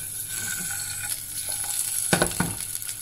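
Garlic cloves fry in coconut oil in a pan, giving a steady close sizzle with a few stirring scrapes and soft clinks of a utensil against the pan, and no talking.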